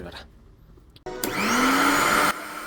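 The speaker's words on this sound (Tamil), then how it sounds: "மிக்ஸி சவுண்ட் கேக்குதா?" A kitchen mixer grinder starts up abruptly and whirs loudly and steadily with a rising whine for over a second, then cuts off; faint room noise comes before it.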